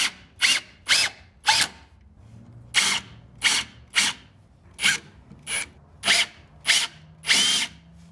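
Power drill driving screws into wood for a truck bed camper platform, heard as about a dozen short whirring bursts with brief pauses between them, fairly close and with no speech.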